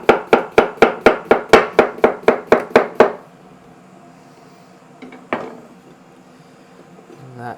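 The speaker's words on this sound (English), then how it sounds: "Next for my salad is some cucumber. So I'm just going to do some slices." A knife slicing cucumber on a cutting board: about a dozen quick, evenly spaced chops in a steady rhythm, close and crisp, followed by quiet and one softer knock later on.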